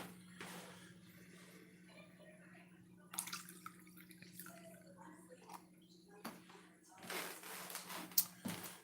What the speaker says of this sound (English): Giving them one more rinse.